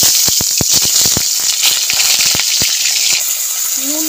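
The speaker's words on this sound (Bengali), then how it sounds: "পটলগুলোকে ভেজে নেব তেলের মধ্যে দিয়ে।" Pointed gourd (potol), slit down the middle and salted, frying in hot oil, a steady loud sizzle with scattered crackles and pops, no talking.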